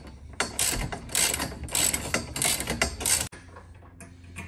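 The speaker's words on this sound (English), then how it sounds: "just tighten up with the 13mm socket and spanner." A 13mm ratchet socket with a spanner tightens a bolt during fitting of a heavy duty soft top conversion kit on a 90, giving rapid clicking ratchet strokes in several close bursts before a quieter pause.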